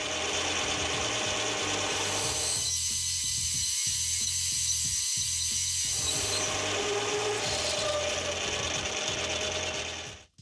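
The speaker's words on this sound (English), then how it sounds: "I'll bump in a little chamfer and then cut a counterbore with a close-ish size end mill" A small end mill on a lathe setup chamfers a part, then cuts a counterbore in a small metal nut, giving a steady mechanical whir with rhythmic ratcheting and rubbing cutting noise throughout, close and fairly loud, with no talk.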